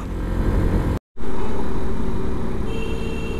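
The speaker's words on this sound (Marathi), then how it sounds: "चला घाटात गाडी चालू आहे।" A car climbs a winding mountain ghat road toward a hilltop temple, its engine a steady, close drone with a brief cut in the middle.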